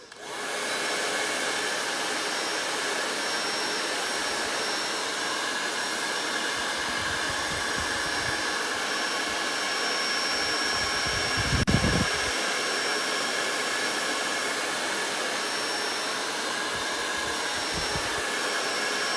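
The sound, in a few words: hair dryer drying a wreath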